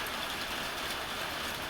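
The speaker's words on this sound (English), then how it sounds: "Rain is coming down. Pouring down." Heavy rain pours down steadily on the bayou, a dense, even hiss with no pauses and no voices.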